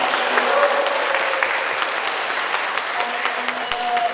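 Audience applause at a conference session, a steady wash of many hands clapping at close range that holds evenly from start to finish, with faint voices mixed underneath.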